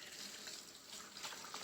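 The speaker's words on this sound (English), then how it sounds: "you can stick them back under the water and start washing all that soap off" Hands are rinsed of soap under running tap water, a steady, soft, close hiss of flowing water with faint splashes and no speech.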